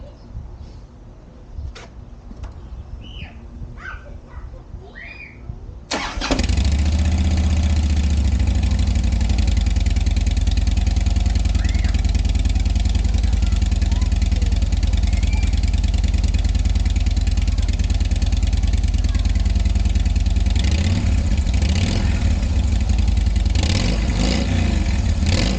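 A 2008 Harley-Davidson Fat Boy with stock exhaust pipes starts after a few seconds of quiet background, then settles into a loud, steady, rumbling idle with a couple of throttle blips near the end.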